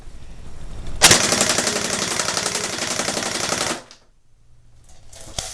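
A Crosman Pulse R76 airsoft gun fires on full auto in one continuous rapid rattling burst of about three seconds. It is loud and close, and a faint clatter follows once the shooting stops.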